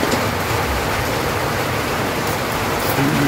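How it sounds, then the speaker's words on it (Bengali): Rain falls steadily in a rural village, a dense, even hiss that holds at the same level throughout with no voices over it. "তো বৃষ্টি কমে গেছে অনেক"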